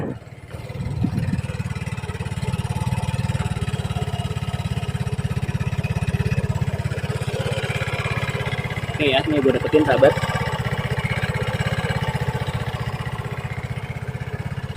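A motorcycle engine idles with a steady low rumble throughout, close by, while someone speaks briefly over it.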